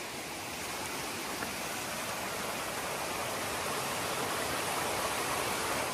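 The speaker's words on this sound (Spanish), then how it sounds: "Este río nace de la montaña." A mountain river in Guatemala rushes over smooth stones, a steady broadband roar of flowing water that stays constant and fills the whole scene with no voices.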